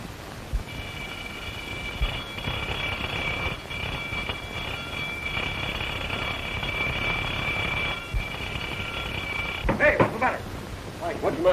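A continuous high-pitched alarm bell rings steadily for several seconds under a noisy background, then cuts off, followed by clattering sounds.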